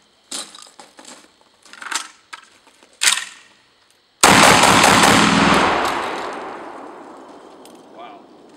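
Vepr 12 semi-automatic shotgun firing number 4 shot in a mag dump, heard loud and close as a fast string of sharp blasts, then one big blast whose echo trails off over several seconds.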